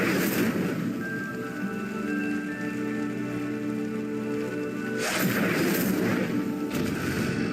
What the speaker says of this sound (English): The flames make the pyre sink.